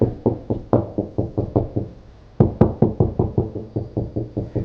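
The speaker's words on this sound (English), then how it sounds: "And you can always kind of knock on the wall. See how there's kind of a hollow sound there?" Knuckles rap a hollow drywall wall in quick, even runs of close, resonant knocks, a short pause in the middle, then another steady series; no talking.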